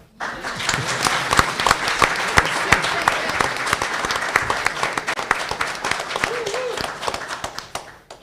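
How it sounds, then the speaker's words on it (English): An audience at a school board meeting gives a round of applause, with many sharp individual claps standing out above the general clatter. It runs steady for several seconds, then tapers off, and a faint voice is audible underneath. "Give him a hand clap."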